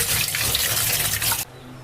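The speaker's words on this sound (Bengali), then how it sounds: "মাছ কাটা হয়ে গেছে, এখন ধোয়া হচ্ছে।" Cut hilsa fish are rinsed under a strong, close stream of tap water that splashes steadily and then cuts off abruptly near the end.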